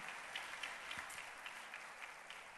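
A church congregation claps during a live worship service, a soft, steady patter of applause heard from a distance, with faint rhythmic accents and no voices.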